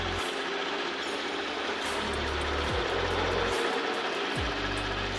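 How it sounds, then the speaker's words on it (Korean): A Hyundai Equus VS380 engine idles steadily with the hood open, a low, even, faint drone with slight periodic shifts. "엔진 소리 일정하고 좋습니다"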